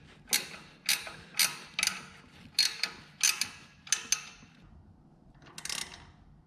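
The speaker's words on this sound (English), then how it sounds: "This is the only ratcheting wrench I have" A 12 mm ratcheting wrench clicks in short, regular bursts while bolts are tightened during a DIY engine install, about ten crisp close ratchet strokes alone in a quiet garage.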